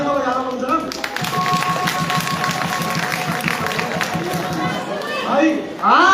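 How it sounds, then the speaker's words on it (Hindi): Audience at a Ramlila performance during the Dussehra fair in Haridwar claps in a dense, rhythmic burst that runs throughout, with crowd chatter and voices layered over it. "1000 तालियां तो बजा दो कम से कम"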